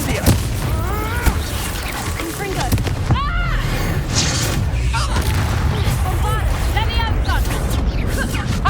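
An Incendio fire spell fired during a battle in the video game Hogwarts Legacy, heavy booming bursts in a dense, loud mix of combat noise with voices talking throughout.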